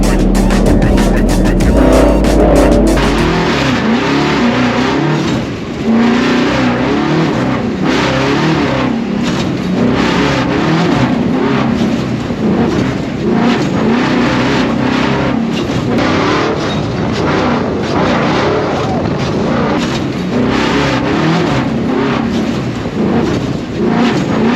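A $300K Ford Bronco Baja truck revs hard while driving, its loud engine roaring steadily with repeated surges of throttle and rising pitch, close and continuous, buffeted by wind noise throughout.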